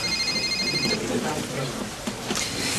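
A mobile phone rings with a repeating electronic ringtone for about the first second, mixed with room noise and background talk.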